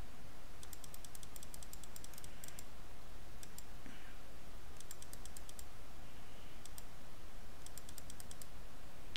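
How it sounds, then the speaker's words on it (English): Computer keyboard typing in quick bursts of clicks with pauses between, heard against steady background noise while setting a server reboot time in Windows Admin Center. "So I'm going to type"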